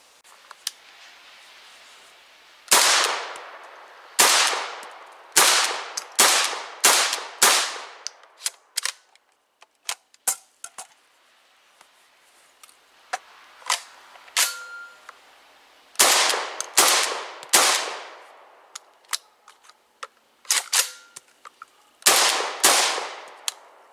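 An RIA VRBP 100 shotgun firing slugs at a range: loud, sharp shots in rapid clusters of four or five, separated by pauses with metallic clicks and handling sounds.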